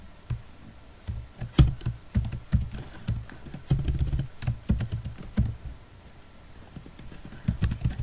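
Computer keyboard typing while entering a city name into a PHP weather app, heard as close, irregular clicking keystrokes in quick bursts with short pauses between them.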